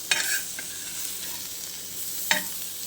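Fish shallow-frying in a pan, a constant soft sizzle with two sharp spatula clinks or scrapes near the start and one near the end.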